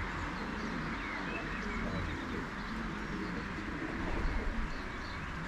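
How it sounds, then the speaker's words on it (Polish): Many pigeons at a pigeon loft coo softly amid a steady murmur of birds, with low rolling calls repeating throughout and faint background noise. "Bardzo dużo gołębi."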